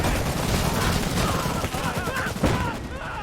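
Mortar squads fire in a battle in the game Iron Harvest. Loud, dense volleys of gunfire and booming blasts overlap in a continuous battle din, with a sharp burst near the end.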